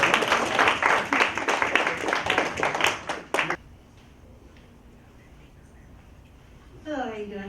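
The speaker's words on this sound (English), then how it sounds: "Can we give a hand of applause to" Clapping from attendees at a networking event in Austin, Texas, a few seconds of fairly close, uneven hand claps that stop abruptly, followed by quiet room tone and a short voice.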